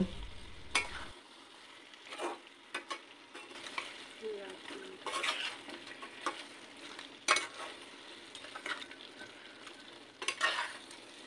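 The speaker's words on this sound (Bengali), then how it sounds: "আলুটা দিয়েও ভালো করে কষিয়ে নেব।" Four pieces of potato being stir-fried in a pan for a village-style chicken curry, with a soft steady sizzle and intermittent scraping stirs, close and moderately quiet with no talking.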